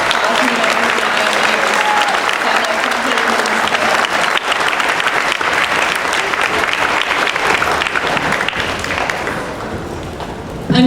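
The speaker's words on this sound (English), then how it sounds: "Another round of applause" Sustained applause from a large crowd at a school Veterans Day ceremony honoring guests, loud, dense clapping that continues steadily for about ten seconds before tapering slightly at the end, with faint voices mixed in.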